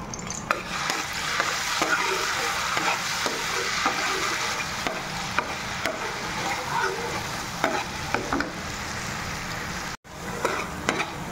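Hot oil sizzling in a frying pan while a roast is prepared, a constant crackling hiss with scattered sharp pops and stirring scrapes, broken by a brief dropout near the end.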